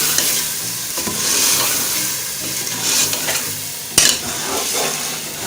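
Potato and minced meat curry is stir-fried in a pan, with a continuous close sizzle under irregular scraping strokes of a spoon and one sharp clink partway through.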